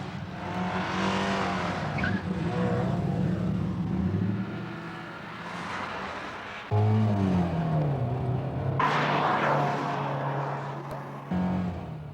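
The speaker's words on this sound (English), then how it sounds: "Hunt is trying to be neat as he slides the car around the corner" A Ford Sierra road car slides around a race track corner, its engine revving and dropping with gear changes as tires squeal, close and loud, while a commentator talks over it.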